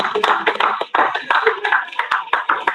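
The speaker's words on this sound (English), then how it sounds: "So please, a round of applause for them." Audience at a crypto event applauds, a few people clapping in loose, uneven rhythm close by, with voices talking over the claps.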